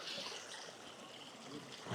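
Natural spring water stream running through a village in Skardu, a faint, steady trickling flow heard alone for a brief moment.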